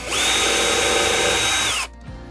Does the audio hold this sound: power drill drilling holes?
yes